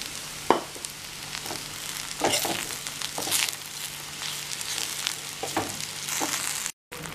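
Bread pieces frying with onions in an oiled pan for bread upma, a steady close sizzle with bursts of scraping stirs and clinks, briefly cutting out near the end, no one speaking.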